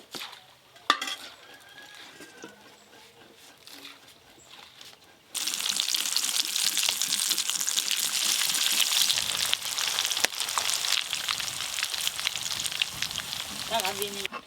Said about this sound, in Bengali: আলু আর ডিম ভেজে নেব। সাদা তেল, ছাঁকা তেলে সব ভাজবো।